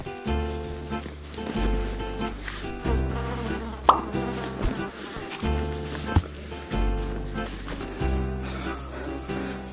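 Bees buzzing along a mountain trail on Gunung Ciremai, a continuous insect drone with rising and falling tones under faint rustling and occasional soft knocks, fairly close.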